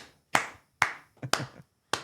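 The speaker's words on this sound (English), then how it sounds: "Clap it up." A few separate, sharp hand claps, close and dry, spaced unevenly with short silences between them, like a small group or single person clapping in a quiet room.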